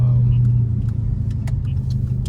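A 2018 Dodge Charger Hellcat driving at moderate pace, its engine a loud, close, steady low rumble from inside the cabin, with small clicks and rattles over it.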